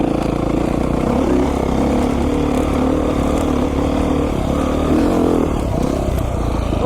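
A Beta 500 RR-S dirt bike's engine running while being ridden up tight mountain single track, a loud, steady, smooth low-pitched drone with slight rises in revs throughout.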